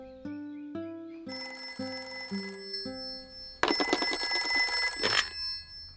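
A cartoon telephone rings in a children's animated show, with a series of clean electronic ring tones stepping in pitch followed by a loud, bright sustained bell trill near the end, with no voices.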